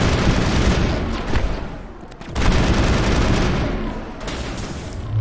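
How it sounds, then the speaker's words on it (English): Grenade thrown and going off during a Mass Effect firefight on Feros against the Geth, with a sustained roar of battle noise, a brief lull, then another loud surge of blasts and gunfire that holds steady to the end. "Oops, threw a grenade."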